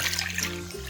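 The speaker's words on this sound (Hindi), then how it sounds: "अब इन आलूओं में हमने ठंडा पानी डाल देना है" Cold water pours onto shredded potatoes in a bowl for hash browns, a short close steady trickle and splash lasting about a second, with no talking.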